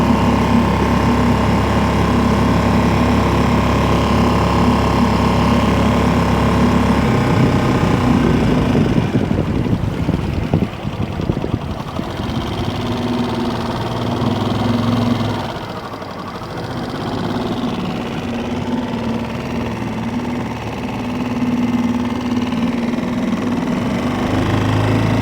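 A gas single-cylinder outboard engine runs steadily at about half throttle on a boat heading into the wind, a loud, close, continuous drone with a brief dip in level midway and wind buffeting the microphone.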